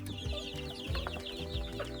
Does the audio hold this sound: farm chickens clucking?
yes